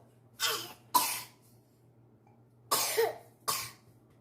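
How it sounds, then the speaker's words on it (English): Four sharp coughs in two pairs, close and fairly loud, with short quiet gaps between them and a faint steady hum underneath. "Got quite the cough now."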